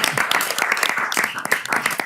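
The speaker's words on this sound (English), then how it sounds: "So one more round of applause," Board meeting attendees give a round of applause, a steady flurry of crisp hand claps of moderate loudness running through the full stretch with no speech over it.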